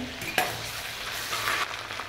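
Ginger garlic paste frying with cumin in oil for pav bhaji, a soft, close sizzle with a brief clink of a utensil early on and gentle stirring, fairly faint, no speech.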